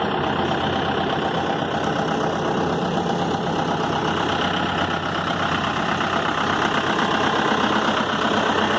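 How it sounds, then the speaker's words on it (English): A motorcycle engine runs at idle on a Mumbai to Ladakh bike trip, a steady mechanical drone with rapid low pulsing and no clear rise in revs, holding an even loudness throughout. "He's revving it up now."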